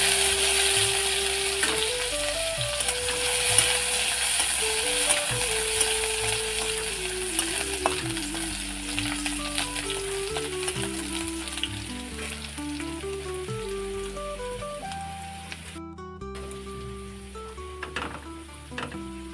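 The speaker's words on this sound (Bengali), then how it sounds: "ফোড়নে থেতো করা রসুনটা দিয়ে দিলাম।" Crushed garlic sizzles in hot oil as a tempering for a jute leaf and jackfruit seed dish, a steady frying hiss running throughout under background music, with occasional faint stirring clicks.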